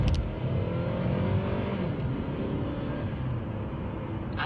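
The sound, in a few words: 2014 Hyundai Sonata GLS 2.4 accelerating on wet road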